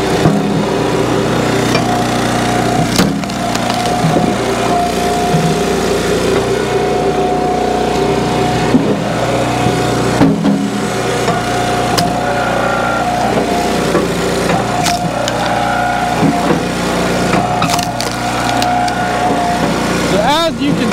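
An Eastonmade Ultra log splitter's small engine drones loudly and steadily while splitting firewood, its pitch dipping as the wedge works through wood, with occasional creaks and a person talking over it.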